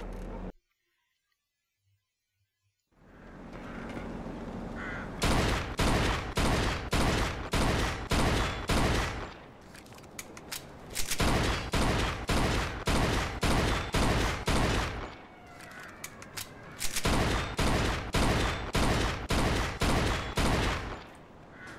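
Gunfire at an old crate in the video game Mafia 2: after a quiet start and a rising engine-like rumble, three long bursts of rapid, evenly spaced loud shots ring out, separated by short pauses.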